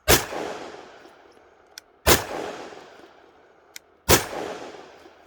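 Three loud, sharp pistol shots from a custom Sig P320 chambered in .357 SIG, fired outdoors about two seconds apart. Each crack has a ringing, echoing tail, with no talking.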